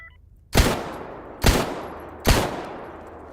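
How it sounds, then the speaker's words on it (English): An enemy fires in a video game: three sharp, loud gunshots spaced under a second apart, each with a short decaying tail, no talk. "This guy's taking shots."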